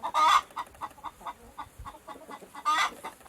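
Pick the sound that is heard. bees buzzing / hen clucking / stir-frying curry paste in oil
hen clucking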